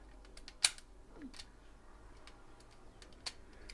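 Ratchet joints on a Power Rangers Lightspeed Rescue Omega Megazord toy clicking, a few sharp, sparse plastic ticks with one louder snap, quiet and close.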